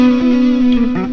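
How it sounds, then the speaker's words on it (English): A guitar plays through a Flamma FX150 multi-effects floor unit set to ping pong echo into an overdriven amp, a sustained loud note with repeats ringing on behind it. "ping pong echo"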